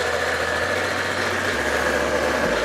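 A repaired Bashan BWS moped engine idles steadily on its own, a close, even mid-pitched putter with no knocking and a slight shift in tone partway through.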